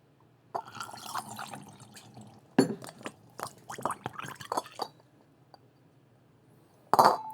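Water poured and sloshed into a mead container, with clinks of glass and wet splashing bursts across the clip, pauses between, and a final short splash near the end.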